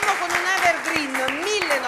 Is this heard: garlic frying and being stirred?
no